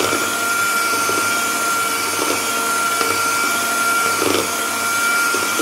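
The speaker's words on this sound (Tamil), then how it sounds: "இன்னும் 1 நிமிஷம் வந்து நல்லா ஹை ஸ்பீடில் நான் வந்து அடிச்சுக்க போகிறேன்" An electric mixer whips sponge cake batter at high speed, a loud, steady, close motor whine with faint rhythmic scraping from the beaters in the bowl, no talking.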